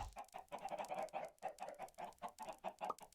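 Minecraft chickens in the Enigmatica 6 modpack cluck steadily and close for about three seconds, dense overlapping calls with no voices over them.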